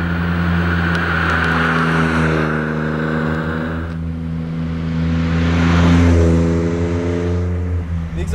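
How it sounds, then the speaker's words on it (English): An Autozam AZ-1 kei car's small engine and exhaust drone loudly and steadily nearby, the pitch swelling and easing with throttle changes, like a low-RPM cruise with gentle revving. "Exhaust is like a little bit droney at lower RPMs, but it sounds really good."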